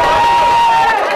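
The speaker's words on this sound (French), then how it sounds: "applaudissez pour le réalisateur de ma maison disque" An audience at a music release event cheers loudly for a record label producer, a dense, continuous crowd roar with a sustained tonal note running through it.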